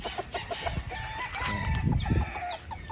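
Fighting cocks and chickens in a backyard cluck and call repeatedly, with a crow rising among steady nearby clucking and rustling.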